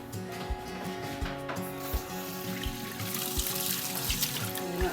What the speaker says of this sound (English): so what we do first is get warm water.